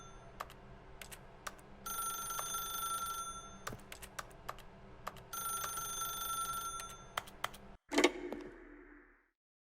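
An old telephone rings in The Stanley Parable video game, giving repeated bursts of bell ringing separated by short pauses, then a final thud and a fading tail.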